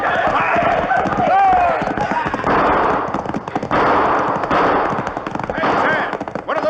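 Gunfire in a 1952 radio western drama crackles as dense, rapid shots over a sustained noisy bed, loud and continuous, with voices mixed in.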